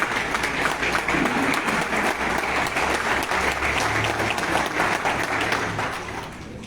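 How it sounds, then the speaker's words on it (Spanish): Steady applause from a lecture audience at a talk on Mexico's new school and its textbooks, dense clapping that holds throughout and tapers slightly at the end. "a Lucha, un fuerte aplauso"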